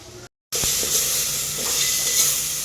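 Ginger paste goes into chicken frying in a pan and is stirred, bringing a steady close sizzle with a few scraping stirs and clinks after a brief silent gap.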